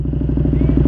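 A KTM Superduke 1290 R motorcycle engine idles and revs up close, its steady pulsing throb rising slightly in pitch over under a second.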